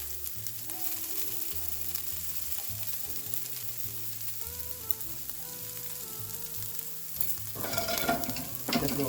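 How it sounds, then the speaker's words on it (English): Veggie hash frying in a pan hisses with a steady, moderate sizzle, then a burst of louder crackle and scraping as it is stirred near the end. "All right, let's give this a stir, guys."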